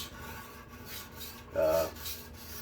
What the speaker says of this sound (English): you're grinding off less steel as you go